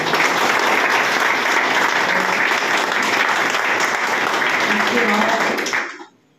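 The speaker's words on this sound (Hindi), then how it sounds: "सभी लोगों के लिए एक जोरदार ताली हो जाए उनके सम्मान" A large audience claps loudly and steadily in honour of a company's MD, CMD and directors at a networking business gathering, a dense continuous roar of hands that cuts off abruptly at the end.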